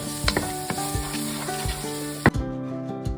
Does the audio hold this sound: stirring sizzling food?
yes